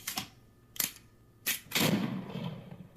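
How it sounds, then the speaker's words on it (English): A gunshot sound effect: a few crisp, sharp cracks followed by a louder, longer blast that rings out, heard alone. "And then a gunshot."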